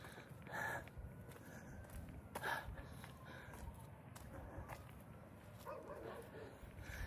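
A dog barks from a window nearby during an outdoor driveway walk, a few faint, spaced barks and yips under steady background noise and footsteps.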